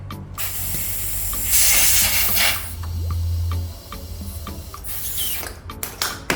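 Air hisses steadily from a compressor hose into a flat go-kart tire on a homemade wooden pallet kart, bursts of broadband rushing noise lasting a few seconds each amid small clicks and handling sounds, close and fairly loud.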